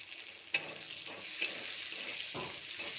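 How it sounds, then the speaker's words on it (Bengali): Onion and green chilli fry in a pan: a steady, fairly quiet sizzle runs throughout, broken by a few soft scrapes of stirring. "নাড়াচাড়া করে ভেজে এটা এখন ভেজে নিচ্ছি"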